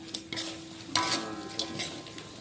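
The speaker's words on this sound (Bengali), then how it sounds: "এগুলা শুকনো মরিচ আছে সাথে ভাজিয়ে নিতেছি একসাথে" Whole spices (bay leaf, cardamom and cinnamon) fry in a pan with dried red chillies. A close, sharp sizzle is punctuated by several quick stirring scrapes, the loudest about midway.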